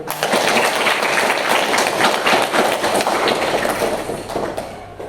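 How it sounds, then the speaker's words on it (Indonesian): Students in a junior high school classroom applaud during a computer networking and internet lesson, a dense, steady clatter of many hands that holds at an even level throughout. "beri tepuk tangan"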